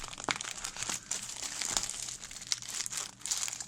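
Plastic packaging crinkles and rustles up close as it is handled and opened, in quiet irregular bursts of crackling.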